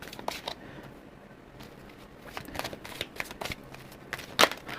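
Tarot cards shuffled by hand during a reading, a string of crisp, close riffling and flicking bursts with soft pauses between, fairly quiet, with no voices.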